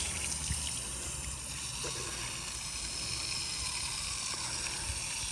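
Water poured over new chimney flashing on a roof during a leak test trickles and hisses steadily, soft and even, under constant outdoor background noise.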